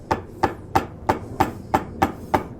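A chisel taps into wood to cut a traditional dovetail joint for a pipe and tobacco box, eight evenly spaced sharp knocks, close and clear with nothing else around them.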